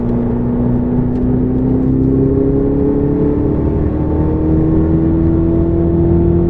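A car on the Silverstone circuit accelerates hard, its engine note climbing steadily in pitch as the power comes on, loud and close with a constant whirring drive sound and no talking.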